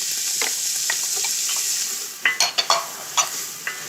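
Carrots go into a pan of frying onions and bacon while the dish is being prepared for short ribs braised in Barolo. A steady sizzle runs underneath, and several sharp scrapes and taps of stirring come close up near the end.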